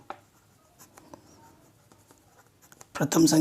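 Pen or marker strokes during a class 8 maths lesson, faint light scratches scattered through quiet moments, ending in a louder burst of broadband scraping; no words are spoken.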